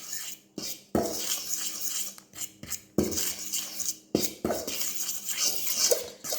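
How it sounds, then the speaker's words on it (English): A fork stirs flour and salt together in a bowl for homemade apple pie crust, making close, irregular scraping and clinking taps against the bowl with short pauses between strokes. "Now I'm just going to mix it with a fork"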